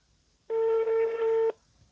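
A single telephone ringback tone sounds while an outgoing call is placed: one clean, steady electronic beep lasting about a second, loud and close, with quiet room noise before and after.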